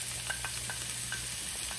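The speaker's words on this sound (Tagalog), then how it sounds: "So, mainit na yung oil natin. So, lalagay ako ng ating garlic." Garlic sautés in hot oil for lasagna sauce, giving a steady close sizzle with a few small crackles and pops, no voices.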